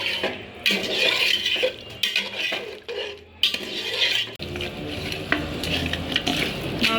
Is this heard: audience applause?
no